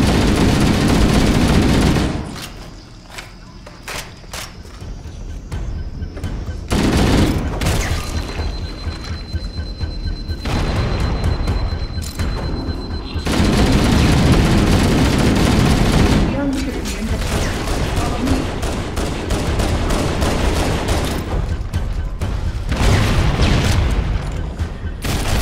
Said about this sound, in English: It's like walking into a confetti cannon full of